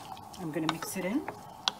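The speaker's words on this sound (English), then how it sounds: "I'm going to mix it in." A spoon stirs a spiced turmeric and water mixture in a cooking pot, with scraping swirls and a few sharp clinks against the pot, close and fairly quiet.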